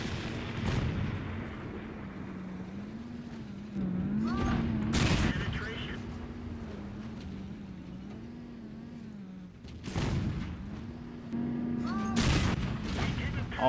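Tank cannon blasts from World of Tanks with modded game sounds, a few sharp loud shots spaced apart over a droning engine hum, with a voice talking over parts.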